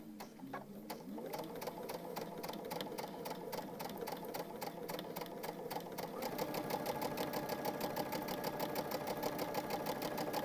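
A domestic sewing machine stitches in the ditch around lined fabric for an organizer pad, a rapid even mechanical clatter that speeds up partway through and runs continuously, close and clear.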